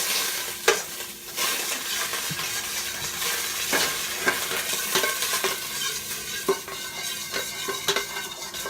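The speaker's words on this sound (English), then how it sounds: "So I'm just melting my butter right now" Butter melts in a pan with marshmallows, giving a soft, steady sizzle with scattered clinks and scrapes of a utensil against the pan.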